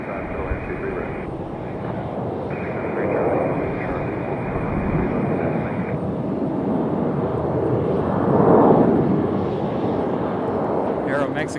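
American Airbus A321 arriving from Charlotte landing at RDU, a broad engine roar that builds, peaks near the end and stays under radio chatter and talk throughout.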